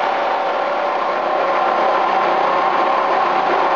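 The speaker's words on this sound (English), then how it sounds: "Showing the Webster Bennett currently turning at 200 RPM" A Webster & Bennett vertical boring and turning machine runs with its main chuck turning at 200 RPM, its top speed, producing a loud, constant mechanical drone and whir that holds steady throughout with no voices.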